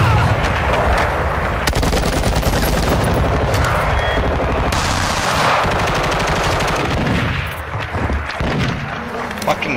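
Rapid gunfire from a marksman rifle in a first-person shooter video game, loud and dense bursts running through the whole stretch, layered over game effects, with a player's voice talking over parts of it.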